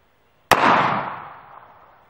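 A single sharp gunshot from an FN Five-seveN pistol firing a 5.7x28mm black tip armor-piercing round, loud and close, with a brief decaying echo trailing off.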